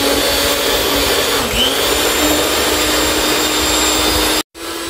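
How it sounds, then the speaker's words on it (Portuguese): An electric mixer whips egg whites toward stiff peaks for a sponge cake batter, giving a loud continuous motor whine with a brief dip in pitch midway, then cutting off abruptly near the end before restarting. "Eu vou bater aqui até ficar em ponto de neve."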